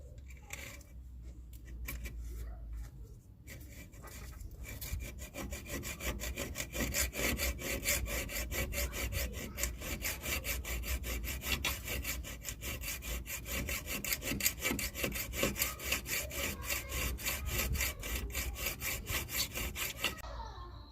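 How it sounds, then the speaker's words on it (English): Hand saw cutting a slot into a tent pole wrapped in an inner tube, a steady, fast rhythmic rasp of back-and-forth strokes that builds after a quiet start and runs continuously at close range. "Okay, the slot has been sawn"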